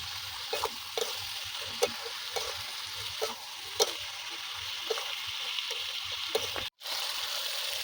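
Bottle gourd and prawns stir-fry in a pan, with a constant low sizzle broken by sharp spatula clicks and scrapes at irregular intervals, close up and without speech.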